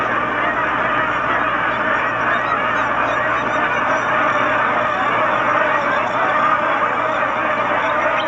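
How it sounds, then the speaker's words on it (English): A flock of nervous whistling ducks in New Guinea calls as they take off together, a dense, continuous chorus of honking and whistling cries filling the air at close to moderate range, with no pauses. "Its presence makes these whistling ducks nervous and flighty."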